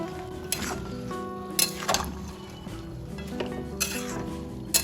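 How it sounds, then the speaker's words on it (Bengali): A spoon stirs a kochu flower (taro blossom) mixture with lemon juice in a pot, making soft scraping and occasional clinks against the metal under a low background hum, close and steady. "এবার সব কিছু ভালোভাবে মিশিয়ে নেব"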